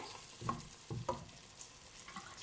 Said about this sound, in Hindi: ये कीमे तो मैं भी भून रही हूँ